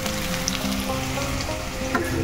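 Rui fish curry with fried potatoes and a little chopped onion sizzles and bubbles in a pan, a steady close frying hiss with small pops and spatters throughout.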